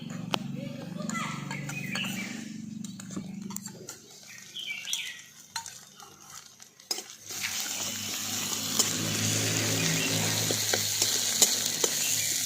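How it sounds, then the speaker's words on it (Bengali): Ginger, garlic and green chili paste frying with onions in a pan. A voice talks over soft clinks at first, then a louder, steady sizzle builds through the second half. "এবার এই মশলাটাও খুব ভালো করে ভাজা ভাজা করে নিচ্ছি।"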